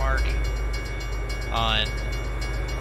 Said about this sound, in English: it figures a train would go by whenever I'm talking